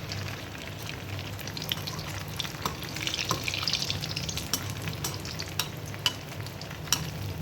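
Bread rolls deep frying in hot oil until golden, giving a steady close sizzle with scattered crackling pops and bubbling, occasional sharper spits standing out, no voices.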